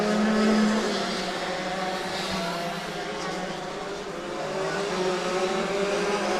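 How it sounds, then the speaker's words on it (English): Go-kart engines whine and drone in a karting league race at Adams Motorsports Park, the pitch shifting as the karts accelerate and pass, while a commentator talks steadily over them. "Looks like McCoy is covering some distance on kart 346"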